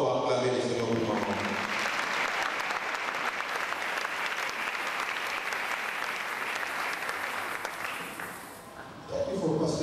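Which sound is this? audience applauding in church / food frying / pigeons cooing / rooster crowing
audience applauding in church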